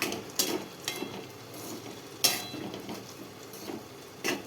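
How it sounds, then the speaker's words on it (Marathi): A spoon stirs sago pearls in an iron kadhai for sabudana khichdi, giving quiet, scattered scraping and clinking strokes with faint sizzling between them, heard alone and close. "साबुदाणा असा आपल्याला चमच्याने असा हलवून घ्यायचा आहे"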